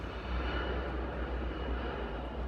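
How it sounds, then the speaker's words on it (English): Propeller or jet airplane passing overhead, a steady loud broadband engine roar with deep low rumble holding throughout, no talking over it. "Planes, man."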